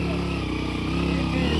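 A motorcycle engine runs close by with a steady, throbbing pulse, briefly rising in pitch, while a voice talks over it.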